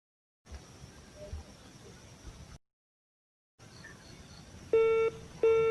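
Two short bursts of electronic beeping tones, like a phone dialing, come after stretches of quiet background hiss broken by dead silence.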